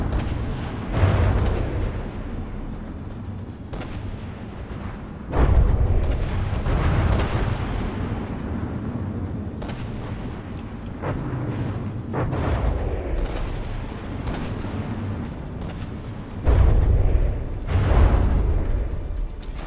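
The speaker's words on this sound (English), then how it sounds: "Deep-reaching guns on the Hydra. It's a really nasty ship with very huge, huge angry broadsides." Repeated deep booming volleys from the Hydra warship's broadside guns in a naval battle video game, heavy blasts recurring every few seconds with a rumbling tail, loud and close with no talking over them.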